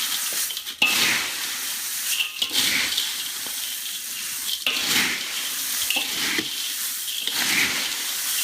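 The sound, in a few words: stirring frying chevda snack in oil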